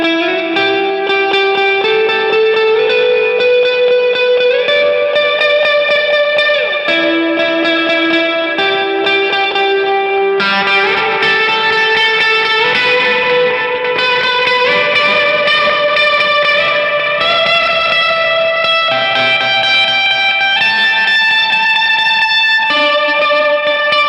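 Electric guitar run through a NUX Atlantic delay and reverb pedal, playing sustained, shimmering chords and melody lines with long reverb tails and echoing repeats, steady and full throughout with no talking.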